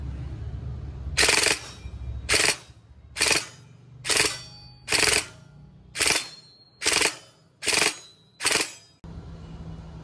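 A Bohan SLR V3 airsoft rifle fires in full auto, heard as eight short, sharp rattling bursts about a second apart over a quiet room. Each burst is loud and close.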